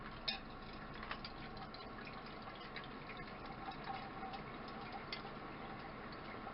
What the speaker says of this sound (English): you're going to add 1 cup, there we go, of cold water